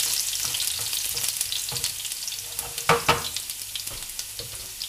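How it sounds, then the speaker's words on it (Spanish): Garlic sizzles steadily in hot oil for lentils with potatoes, with a constant close crackle and occasional louder pops and utensil stirs near the end, no voices. "cuando el aceite esté caliente, lo primero que echaremos será el ajo"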